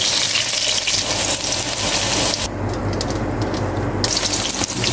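Potatoes fry in hot oil in a pan, a dense steady sizzle filling the clip close up, with a brief softer dip midway before the crackle returns, no talking.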